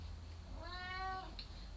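A kitten gives a single clear, drawn-out meow at close range, fairly faint over a low steady background hum indoors.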